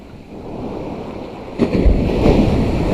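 Large sea waves breaking on the shore during shore fishing for bluefish, with a steady surf roar that swells into louder crashing surges partway through, mixed with wind buffeting the microphone.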